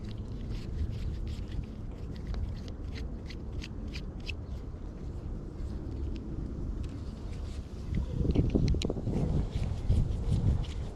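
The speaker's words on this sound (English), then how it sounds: "Oh, that glorious wind feels so good." Steady outdoor wind rushes over the microphone in a broad, continuous roar beside a Redcat Kaiju RC truck, with faint ticking and a louder gusty buffet near the end.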